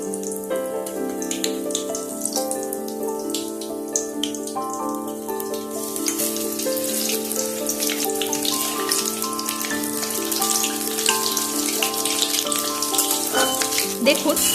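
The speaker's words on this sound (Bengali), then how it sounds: "এগুলোকে ভেজে নিচ্ছি দেখুন" Steady sizzling and crackling of pumpkin-flower fritters frying in hot oil, growing busier toward the end, with tonal background sounds underneath.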